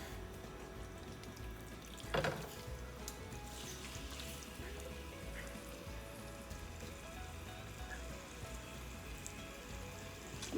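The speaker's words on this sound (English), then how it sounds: "What we're gonna do first is put the meat in and start cooking the meat." Meat sizzling in sesame oil in a pan over medium-high heat for a Thai pepper steak: a steady, quiet frying hiss with a short clatter near the start.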